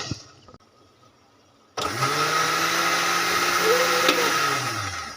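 After a quiet moment with a few light clicks, a kitchen blender starts abruptly and runs loud and steady at close range, whirring as it purees raw mango, tomato and mint into chutney.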